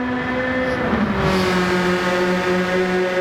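A steady, droning 2014 Alfa Romeo 4C engine in Gran Turismo 7 at Road Atlanta hums continuously with harmonic whine, shifting pitch slightly as it revs, with no voices.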